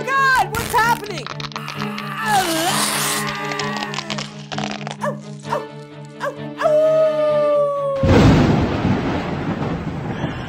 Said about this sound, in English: I got a real need to howl at the moon.